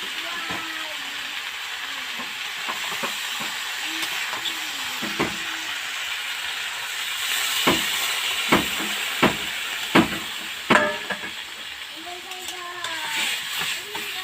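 Water poured into a pan of hot curry, a steady hiss and sizzle of steam with repeated sharp crackles and pops as the liquid hits the heat, a voice speaking over it at times.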